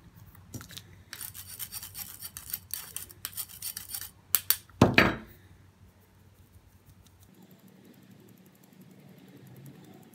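Ground orange peel powder being sieved, a dense rapid rustling and scraping that runs for several seconds, then a few louder knocks and taps before fading to near silence.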